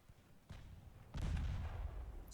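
Naval guns fire in the warship game Ultimate Admiral Dreadnoughts, where a slow ship looses a broadside. A soft thud comes first, then a heavy, booming blast that rolls on as a low rumble to the end.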